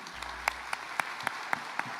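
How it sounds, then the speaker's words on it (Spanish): A group applauding at a church Mother's Day service, with several sharper claps standing out at a fairly steady rhythm over a continuous wash of clapping. "vamos a darle un fuerte aplauso a todas ellas"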